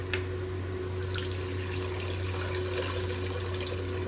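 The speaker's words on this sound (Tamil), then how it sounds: "இப்போ புளி தண்ணி சேர்த்தாச்சு." Tamarind water pours into a fish curry (fish kulambu) on the stove, a soft steady liquid trickle with a low hum behind it and no talk.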